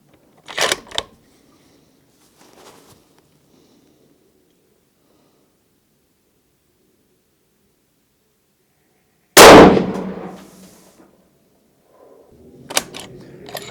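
Ruger RPR bolt-action rifle in .338 Lapua Magnum fired at a zeroing target on an outdoor range in Wales: a few sharp, isolated reports with long silent gaps, one especially loud close blast with a ringing decay.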